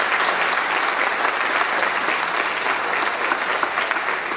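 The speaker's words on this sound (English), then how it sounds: "if we could give those four individuals and all the other people another round of applause" A theater audience at a high school National Honor Society induction ceremony applauds steadily, a dense even patter of many hands clapping close by with no voices over it.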